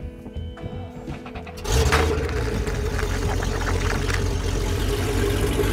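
A boat engine turns over and catches after a quieter opening, then settles into a loud, steady running drone that continues without a break.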